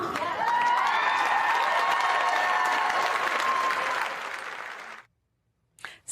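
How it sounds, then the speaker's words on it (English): A crowd applauding and cheering, dense clapping with a few whoops held steady for about four seconds, then cut off abruptly into silence. "People cheering for that."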